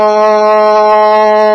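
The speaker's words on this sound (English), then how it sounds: "Ram is another one, so it's" A single sustained chanted "Ram" tone, a steady voiced drone rich in harmonics, held evenly and loud for its whole length with no other sound.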